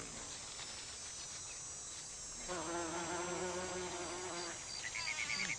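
Bumblebees forcing their way into narrow, tight gentian flowers for nectar give a steady, close insect buzz that grows stronger and more tonal midway, with wavering pitch as the wings strain.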